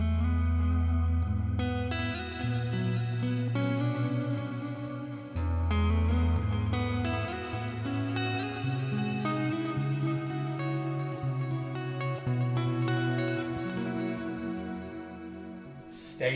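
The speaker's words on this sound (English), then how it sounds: "Loads of reverb and delays." An electric guitar played through a headphone amp with heavy reverb and delay, sustained chords and riffs washing into long ambient echoes throughout, with no talk.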